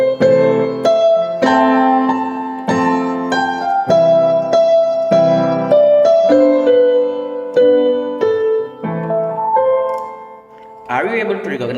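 A song played as a bright, loud melodic line, sustained notes stepping through the tune over fuller chords, with a brief noisy burst at the end.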